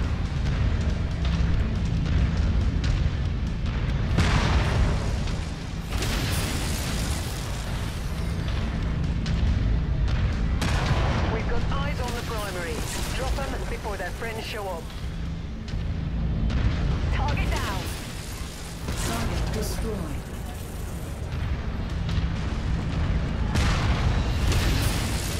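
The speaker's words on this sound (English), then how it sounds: "Incoming missile." Dense, continuous booming and rumbling of missile explosions and weapon fire in the Mechwarrior 5 battle, loud and close throughout, with occasional voices under the din.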